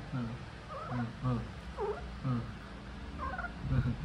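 A cat yowls in long, wavering, drawn-out cries, repeated several times close by, with low background murmur.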